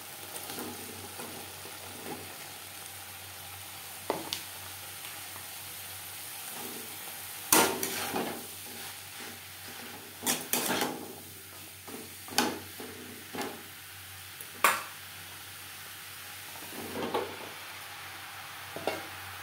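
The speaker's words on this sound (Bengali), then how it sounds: "মশলার সাথে লাউ বেশ ভালো করে মিক্সড করে দেব।" Bottle gourd pieces being stirred into spiced frying oil for a Bengali lau ghonto, a steady low sizzle broken by sharp scraping and clattering strokes of a spoon against the pan at irregular intervals, with no talking.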